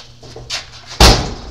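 A 1986 Chevy C10 short-bed pickup door swings shut with one loud, close metallic slam near the end, preceded by faint rustling and small handling noises.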